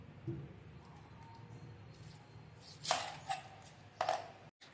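A knife chops a tomato in the kitchen in a few separate cuts, each a soft squishy thud against the board, with quiet gaps between the strokes.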